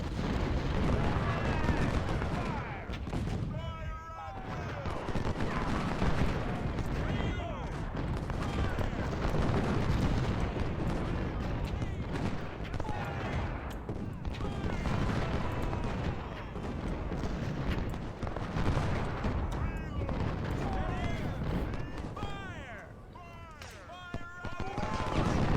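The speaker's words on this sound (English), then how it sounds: "This artillery alone is just routing these soldiers. That thing is so powerful." Artillery and massed musket fire in the Civil War battle game Ultimate General, a dense, continuous rumble of booms and crackling volleys at battle distance, with a voice talking over it at times.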